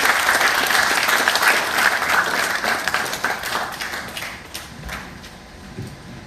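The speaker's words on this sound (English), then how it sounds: "another round of applause" Sustained applause from a crowd at Uganda's Tourism Month launch ceremony, dense and steady at first, then thinning and fading toward the end.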